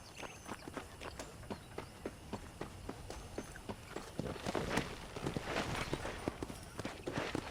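Horse hooves clip-clopping at a steady trot in the Red Dead Redemption video game, a quiet regular rhythm of hoofbeats that quickens and grows denser toward the end.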